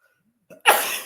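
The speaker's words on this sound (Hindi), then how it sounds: "ये खांसी हो जाया करती है, सर्दी का मौसम।" One sharp, loud cough bursts out after a brief throaty catch, close to the microphone and standing alone in the quiet.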